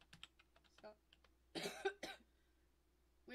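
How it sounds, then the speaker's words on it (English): One person coughs in a short, harsh burst that is close and fairly loud. Light keyboard tapping and faint talk come before and after. "with me coughing everywhere"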